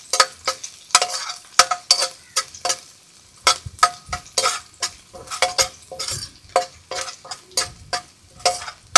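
Garlic and ginger are sautéed in a pan, a utensil scraping and stirring in quick rhythmic strokes with a light sizzle between them, close and clear with no voices.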